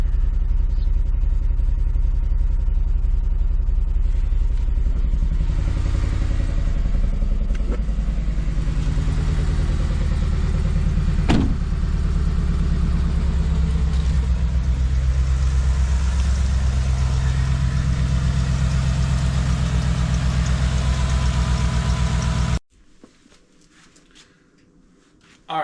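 Tow rig truck engine running with a misfire, a steady close idle with an uneven, slightly clattering pulse and a low rumble that carries on for over twenty seconds before cutting off abruptly.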